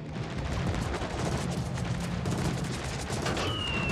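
Distant rattling gunfire in Indomitable: Slingshot Master, a continuous crackling barrage that stays low and muffled throughout with a faint whine near the end.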